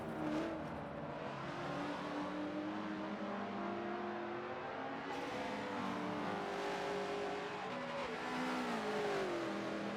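Race car engine in a racing video game, held at steady revs with light throttle taps through a corner, a continuous loud whine rising and falling in pitch over the full stretch, with faint tyre noise underneath.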